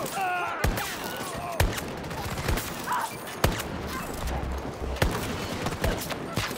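Gunfire in Battlefield 2024, with sharp shots cracking out at irregular intervals over a steady background of battle noise and other action.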